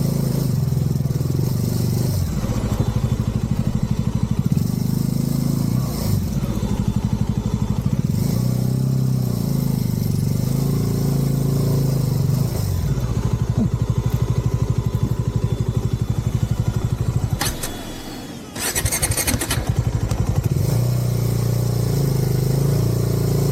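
A motorcycle engine labors continuously up a rough, difficult hill route near Gudisa in Maridumilli, rumbling and revving with clattering bursts and a brief drop in power before picking up again.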